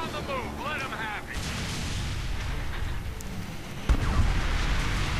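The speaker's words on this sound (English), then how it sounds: "Oh. I missed the explosion" A booming explosion rumbles through gameplay of the shooter Homefront, with a sharp heavy burst late in a loud, noisy battlefield mix that includes whistling tones.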